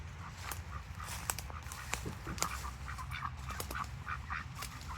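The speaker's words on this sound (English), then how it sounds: "We have ducks and a dog." Several short quacks from ducks in a small backyard come in scattered bursts over a steady low rumble, fairly faint and at a modest distance.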